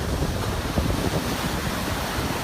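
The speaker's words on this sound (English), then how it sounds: "we don't get crazy waves like this very often" High wind and rough, whitecapped waves crash in a steady, loud broadband roar with heavy wind buffeting the microphone, no voices.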